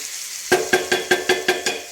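Chicken frying in a pan is stirred with about seven evenly spaced, sharp scraping strokes over a soft sizzle, close and clear with no talking.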